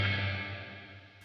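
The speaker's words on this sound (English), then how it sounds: "That would be straightforward reverb." A sustained guitar tone washed in reverb, its reflections smearing and slowly decaying before cutting off abruptly near the end.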